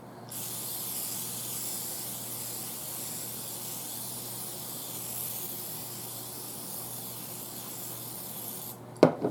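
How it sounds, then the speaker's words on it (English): Coconut oil cooking spray hisses steadily from an aerosol can in a kitchen, one long continuous spray lasting several seconds, close and even, ending with a few brief clicks. "And this is just an aerosol pump."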